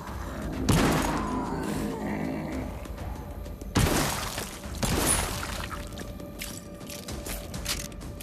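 Gunfire in the VR video game Arizona Sunshine: a few sharp shots spaced a few seconds apart ring out over a steady mechanical background hum.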